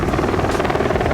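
Helicopter flying overhead on a video game map during an esports match, a steady, loud rotor drone filling the whole short stretch with no speech.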